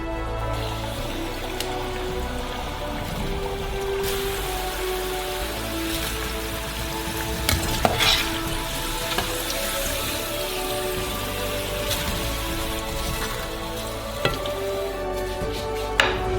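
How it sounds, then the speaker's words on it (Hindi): Potatoes cut for french fries fry in hot oil for a few minutes, giving a steady, dense sizzle and crackle with scattered small pops, close and continuous throughout with no talking. "तीन मिनट तक तलेंगे।"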